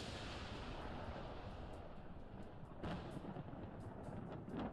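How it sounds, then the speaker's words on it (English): Ominous thunder rumbles through a stormy scene in the video game Arknights, a dense, steady low roar with sharper cracking bursts near the end and no voices. "I love that ominous lightning."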